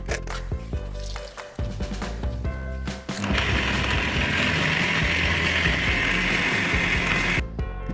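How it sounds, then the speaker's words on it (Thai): A blender whirs through soybeans and 600 ml of water for thick soy milk, starting with a few clunks and short bursts before settling into a steady, loud grinding roar that runs for several seconds and then cuts off. "และในรอบนี้เราจะปั่นหมดเลยนะคะ แต่เราจะใช้น้ำปริมาณ 600 ml ค่ะ"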